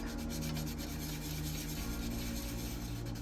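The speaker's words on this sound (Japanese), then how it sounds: "この面が取れるねヤスリで" A hand file rasps across a plastic part from a 1/12 scale Tamiya Fairlady Z 240ZG model kit, taking down a surface with steady, continuous close-up scraping strokes for the whole stretch.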